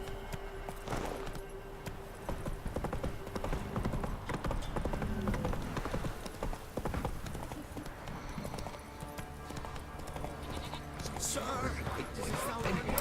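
Horse hooves clatter in a steady galloping clip-clop in the video game Witcher 3, with game ambience and occasional voice sounds layered over the rhythmic hoofbeats.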